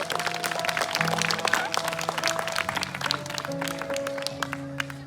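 Guests at a wedding ceremony applaud warmly with steady, crisp clapping that fades slightly toward the end, over soft background music.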